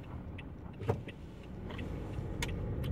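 A few small cars roll past in light after-work traffic, a low steady road rumble that swells slightly toward the end, with faint clicks and no talking.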